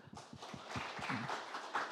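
Sparse, quiet clapping from a small group at a seminar panel discussion. A few separate claps at first, then a thin, uneven patter of applause with some faint low voices.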